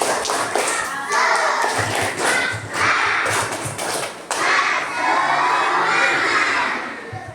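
A crowd of children at a Halal bil Halal gathering shout and cheer in a rhythmic clapping chant. Bursts of claps and loud voices rise and fall together.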